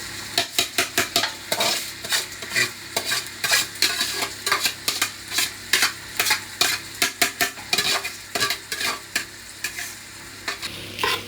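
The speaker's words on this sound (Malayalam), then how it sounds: "അപ്പോൾ നമുക്ക് അരി ഇട്ടത് ഒന്ന് ശരിക്കും ഇളക്കി കൊടുക്കണം. ഒരു 5 മിനിറ്റ് നമുക്ക് നന്നായിട്ടൊന്ന് ഫ്രൈ ആക്കി എടുക്കാം." Rice for Kerala-style ghee rice being stirred and fried in a pan, a spoon scraping in quick repeated strokes over steady close sizzling, with no talking.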